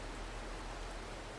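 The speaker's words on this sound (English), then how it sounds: "since it's raining" Steady rain falling in the farming game Farming Simulator 22, a constant even hiss with no other sounds and no talk.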